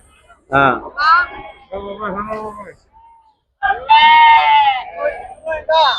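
Several loud, wavering sheep bleats sound close by at a livestock market, with people talking around and between the calls.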